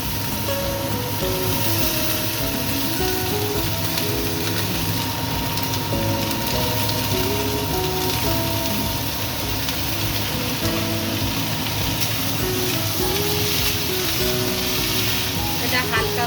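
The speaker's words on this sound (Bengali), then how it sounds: "এবার আমি পেঁয়াজ দিয়ে দেব সব সবজি একসাথেই দিয়ে দেবো" Onions and mixed vegetables cooking in a pan for chicken soup, giving a steady, loud sizzle and crackle that runs without a break alongside a faint background hum.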